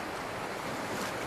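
Ocean waves wash steadily onto a beach in a continuous broadband roar with light wind, loud and close, no voices over it.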